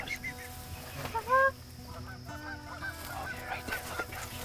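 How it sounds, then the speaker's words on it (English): Geese honking overhead during a Michigan waterfowl hunt: a couple of loud, close honks stand out near the middle over a quiet outdoor background, with faint rustling around them. "Sounds like a goose behind us."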